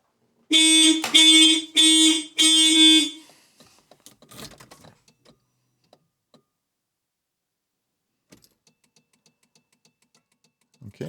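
Four loud, evenly spaced horn blasts from the alarm of a Volvo 945, close by, then quiet with a few faint clicks and thumps.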